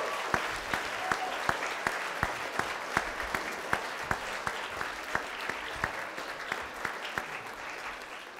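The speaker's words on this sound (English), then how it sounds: "round of applause." An audience at a 2014 candidate forum in a school gives a sustained round of applause to welcome the guests. The crowd clapping is steady, with one sharper clap standing out at a regular beat.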